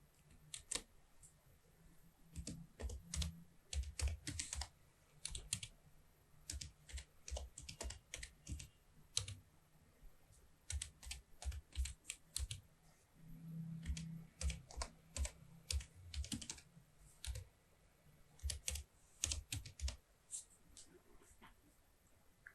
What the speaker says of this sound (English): press Shift and Tab key combination from the keyboard